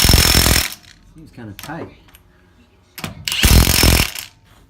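A torque-limiting impact wrench fires in two loud, close hammering bursts, one at the start and a longer one later, with someone speaking briefly in the quiet gap between them.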